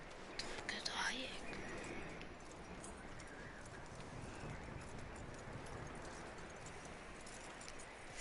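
Horse hooves clopping at a walk in the open-world western game Red Dead Redemption 2, a soft steady rhythm under a wash of ambient outdoor noise, with faint rustling and a brief louder patch near the start.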